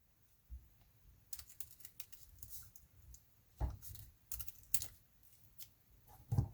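Scissors snip along a diagonal through a folded paper snowflake, a handful of quiet, close crisp cuts and rustles at irregular intervals against near silence.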